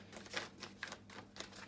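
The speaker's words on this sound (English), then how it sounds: "Let's have a little quick shuffle, see what comes out." Quick shuffle of tarot cards, a few soft papery riffles and taps close by, fairly quiet with no talking.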